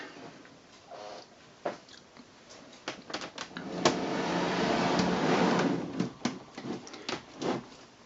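Torx T10 screws being taken out of a Philips FCD485 CD player, small metallic clicks and scrapes of the driver in scattered bursts with a short stretch of handling rustle in the middle, close and fairly quiet.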